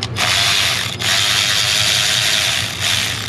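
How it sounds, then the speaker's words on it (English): A ratchet loosens 12 mm bolts during a fuel injector replacement on a 2003 Ford F450 with the 6.0 diesel, giving a loud, steady mechanical whirring that runs for several seconds with brief pauses and no talking. "So next we're gonna pull these bolts. They should all be 12s."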